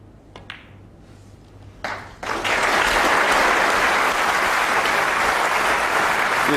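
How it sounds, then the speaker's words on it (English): Snooker audience breaking into sustained applause at the end of a frame in a 2008 World Snooker Championship semi-final, starting with a few scattered claps before swelling into loud, steady clapping from the whole crowd. "The applause tells you that the frame is over."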